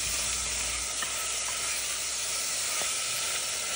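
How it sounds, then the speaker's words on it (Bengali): Tomatoes frying in a pan over medium heat give a steady, close hiss and sizzle that holds evenly throughout the short stretch, with a few faint clicks and no talking. "টমেটোগুলো যখন ভাজবো দেখো আঁচটা মিডিয়ামেই রাখবো যাতে খুব একটা বেশি জ্বলে না যায়"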